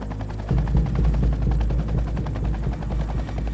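A helicopter roars loudly and close by, its rotor blades thumping in a rapid, steady rhythm the whole time.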